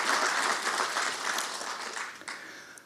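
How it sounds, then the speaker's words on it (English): Audience applause for honorees at a Human Rights Commission ceremony: a steady, dense wash of many hands clapping throughout, fairly loud and even, with no talk over it. "Give yourself a round of applause,"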